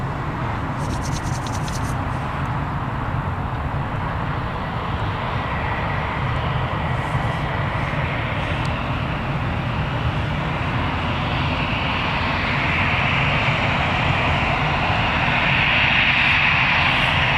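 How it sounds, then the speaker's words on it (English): An EasyJet airliner taxis at Newcastle Airport, its jet engines producing a steady loud roar with a rising whine that grows toward the end, heard from nearby outdoors. "we've got EasyJet as well, now taxiing with some nice little light shining on it."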